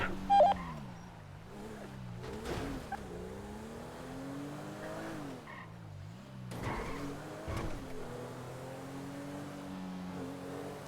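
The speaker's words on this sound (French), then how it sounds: "Il y a une autre bagnole qui arrive." A car in a GTA roleplay video game drives up, its engine droning and revving in rising and falling sweeps as it approaches and accelerates, with a couple of sharp bumps, loud and steady with no talking.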